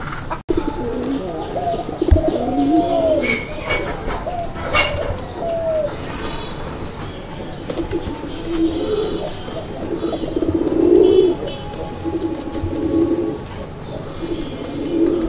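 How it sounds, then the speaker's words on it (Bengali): Local desi pigeons coo repeatedly at close range, a low rolling call recurring through the stretch, with scattered chirps and handling noises between the calls. "দেখেন আপনারা কবুতর কি পরিমাণ ডাকে"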